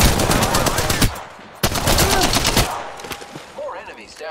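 Rapid automatic gunfire in Apex Legends, two loud close bursts of rattling shots separated by a brief gap, followed by quieter game sounds.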